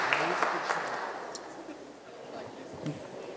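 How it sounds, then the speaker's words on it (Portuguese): Crowd applause and scattered cheers for a newlywed couple at a wedding ceremony, loud at first and tapering slightly, with voices mixed in. "Uma salva de palmas para o novo casal."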